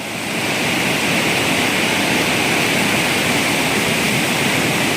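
Dangerous, fast-flowing water rushes in a loud, unbroken roar, close and constant throughout.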